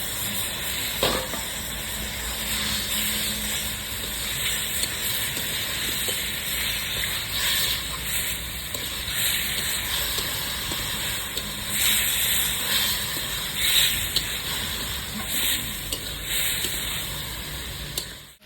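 Potatoes and a splash of water going into a hot pan for a vegetarian potato and pea curry, a steady loud hissing sizzle that holds throughout with occasional bursts and crackles.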